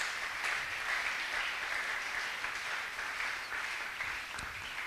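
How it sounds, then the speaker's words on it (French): A church congregation applauds during a sermon on offerings: a steady wash of many hands clapping at once, moderately distant and sustained, with no talking over it. "Acclamons le Seigneur."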